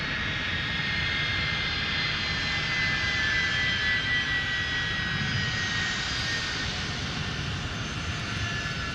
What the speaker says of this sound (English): Listen to those Pratt & Whitney PW2000 engines, everybody.